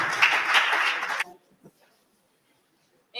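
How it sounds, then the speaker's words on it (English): An audience at a Gambian independence debate applauds loudly for just over a second, then the clapping cuts off into near silence with a few faint sounds before a voice returns. "please, another round of applause for that incredible piece"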